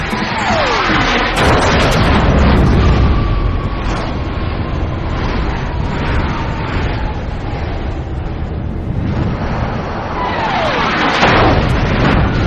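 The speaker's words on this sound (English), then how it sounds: "Debris from the explosion takes down the MiG's wingman" A missile explosion destroys a MiG-17 in an air battle: loud booming blasts with roaring, rumbling debris and descending whistling tones, a dense, chaotic barrage of explosions that stays intense throughout.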